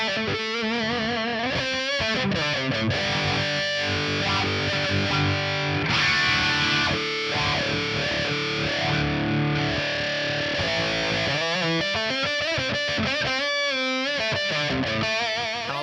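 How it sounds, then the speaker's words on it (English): A distorted electric guitar through a Headrush Flex Prime's wah on an expression pedal plays a run of riffs and sustained notes, its tone sweeping open and closed with a vocal wah quality. "I'm just going to assign the wah to the expression pedal in there"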